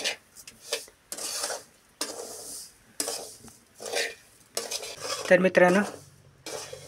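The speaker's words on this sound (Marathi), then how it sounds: "तर मंद आचेवरच आपल्याला रवा भाजायचा आहे चांगला।" Coarse semolina is stirred with a metal spoon while it roasts in a pan on low flame, with repeated scraping strokes in an uneven rhythm, close up, with a brief stretch of talk near the end.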